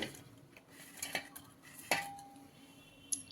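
Gulab jamun are dropped into sugar syrup in a pot, a few soft clinks and a brief metallic ring from the vessel, otherwise quiet.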